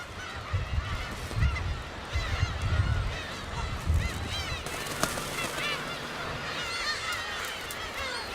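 Black-tailed gulls calling from a dense spring breeding colony of thousands on Dokdo island, a continuous chorus of overlapping mewing cries near and far, with wind and surf rumbling beneath.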